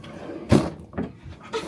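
A cabin drawer on a Royal Caribbean cruise ship, Wonder of the Seas, slides open with a short close scrape and knock, followed by a couple of softer bumps.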